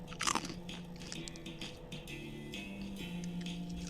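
A Nutri-Grain bar is bitten and chewed close up, a sharp crunch followed by several smaller crunchy chews amid faint background tones, with no talk.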